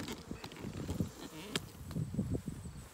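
Honey bees swarm over a hive frame pulled from a backyard colony in late August, a dense close buzzing hum with scattered sharper passes of individual bees, steady throughout and with no talking.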